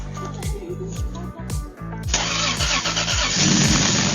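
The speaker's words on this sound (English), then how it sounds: "When a car-crazy kid wanted to hear this Supra's engine" A Toyota Supra sports car engine cranks with a rapid rhythmic starter whir, then catches and roars into a loud, throaty idle up close.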